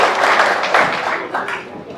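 A lecture audience at an engineering college in Lucknow breaks into applause in tribute, a short, close burst of clapping that swells and then fades.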